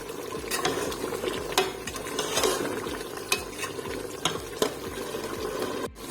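A peeled tomato frying in a pot of daleem, a close steady sizzle broken by rhythmic stirring scrapes and a few light clinks, with no talking.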